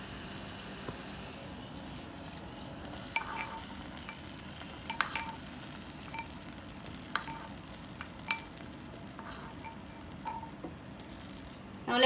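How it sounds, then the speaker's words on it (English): Raisins fry in hot ghee in a pan with a steady, quiet sizzle. Soft stirring clicks and scrapes sound close by, with no talking. "Same way, fry the raisins as well."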